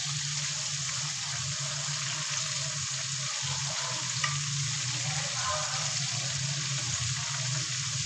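Chicken pieces frying in hot oil over a low flame for KFC-style crispy chicken, giving a steady, close, continuous sizzle and crackle with no talk.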